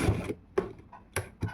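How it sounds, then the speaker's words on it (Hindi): A sewing machine stitches palazzo pants fabric in short bursts, with several quick broadband runs separated by brief pauses, close and moderately loud, with no talking. "सिलाई लगाना इस तरीके से।"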